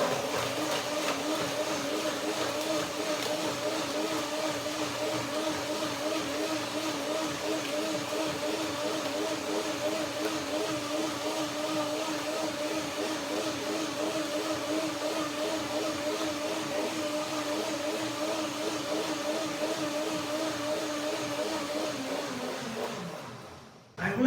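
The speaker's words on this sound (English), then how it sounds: "I put a little bit of water in there and I blend away right now with a blender" A blender whirs through walnuts, figs and grapes with water, giving a steady, droning motor whine with a slight wobble that runs unbroken for over twenty seconds before cutting off abruptly.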